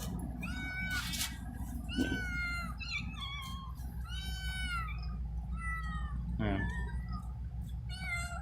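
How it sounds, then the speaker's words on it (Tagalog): Several cats meow repeatedly, overlapping cries near and far over a steady low hum, with one louder yowl near the end. "Ayan, dami ang pusa."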